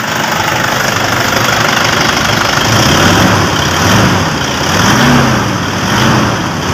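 Engine of a 2012 Toyota Innova after its alternator clutch pulley was replaced, running loud and close with a steady drone and a few gentle rises in pitch as it is revved lightly.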